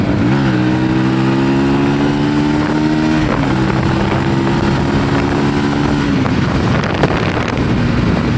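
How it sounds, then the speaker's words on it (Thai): A Honda CBR150i motorcycle revving with a custom exhaust, its muffler and catalytic converter removed: a loud, buzzing engine note that rises and falls through several rev pulls, with heavy wind noise over the microphone and no talking. "เดี๋ยวจะพามาเทสถึงอัตราเร่งนะครับ ของท่อที่ผมทำขึ้นมาใหม่"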